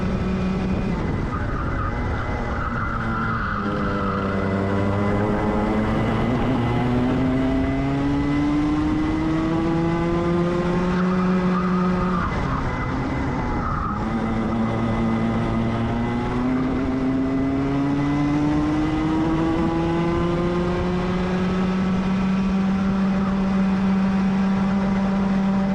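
A Club100 racing kart engine on a qualifying lap at Shenington, buzzing loud and close throughout, its pitch climbing on each straight and dropping sharply into corners in repeated sweeps.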